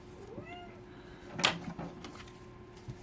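A house cat meows briefly a couple of times, followed by a sharp thump and soft knocks as it moves about near a table, over a steady low hum.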